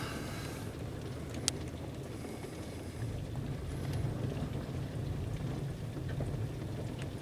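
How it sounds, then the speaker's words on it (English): A hailstorm in a southern Minnesota backyard brings a steady wash of hail and rain falling, with scattered sharper impacts and one brief loud crack. The hiss builds slightly partway through, and no one speaks. "Sometimes when it rains, it snows and pours hail."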